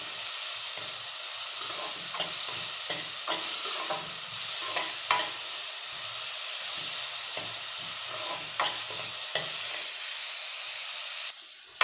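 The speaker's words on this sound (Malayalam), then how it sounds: "ഇതൊന്ന് നന്നായിട്ട് വാടി വരട്ടെ ബ്രൗൺ കളറൊന്നും ആവണ്ട സവാള നന്നായിട്ടൊന്ന് സോഫ്റ്റ് ആയാൽ മതി" Onions sautéing in a pan for Kerala mango curry, a continuous close sizzle broken by repeated spatula scrapes and stirring knocks, with no talking.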